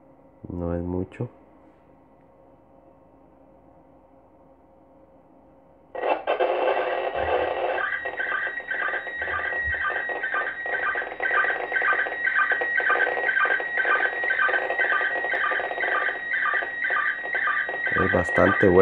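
SSTV image signal from the ISS received on a 70-centimeter radio and decoded in MMSTV: after a short tone and quiet hiss, a loud continuous warbling, chirping data transmission takes over and runs steadily to the end.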